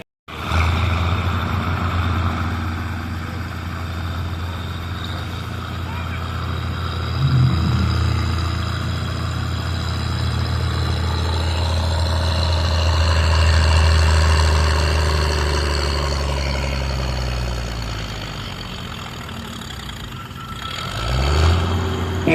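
Minneapolis Moline tractor engine running steadily with a deep, continuous low rumble that swells and fades slightly as it works under load, heard alone with no talk.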